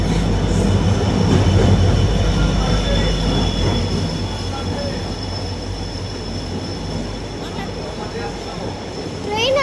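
Train pulling in at platform one of an Indian railway station, a loud, continuous rumble with rolling wheel noise and faint squeals, announcements and voices mixed in throughout.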